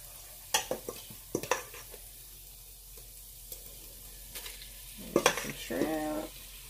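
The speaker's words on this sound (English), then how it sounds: "Alright, give it a stir. Add in some shrimp." Shrimp tipped into a hot pan and stirred while making Cajun seafood stuffed bell peppers, with scattered scraping stir strokes and clinks over a steady sizzle that swells near the end.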